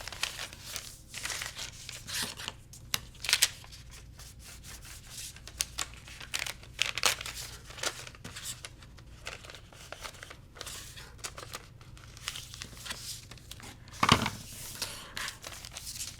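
Paper foundation pieces for quilting being trimmed, with intermittent crisp snips and crinkling paper handling, close and quiet, in irregular bursts with pauses.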